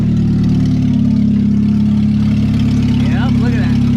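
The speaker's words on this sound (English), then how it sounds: "We got a running, driving MR2." A Toyota MR2 with a swapped-in Honda K-series engine runs steadily at idle, a loud continuous low drone filling the whole stretch while people talk over it.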